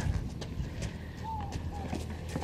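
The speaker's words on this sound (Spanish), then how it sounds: "Oh, se viene un señor en caballo" A horse with a rider approaching on a rural road in hot weather, with faint hoof clops in a loose rhythm under outdoor ambience and people talking nearby.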